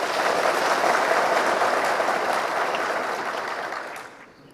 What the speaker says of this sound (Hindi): कृपया जोरदार तालियों से हमारे बीच उपस्थित परिवारगणों का स्वागत करें।